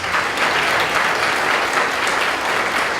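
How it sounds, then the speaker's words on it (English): Steady, loud applause fills the hall at a poetry and neo-soul arts awards ceremony in Georgia. Many hands clap densely and evenly throughout, with no voices above them. "So give yourselves a round of applause."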